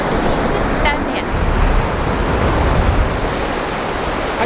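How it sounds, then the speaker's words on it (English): Surf surges steadily onto the sand at Lunan Bay in Scotland, a continuous close roar of breaking waves with wind noise and a brief faint voice. "I'd grab that before the waves grab it."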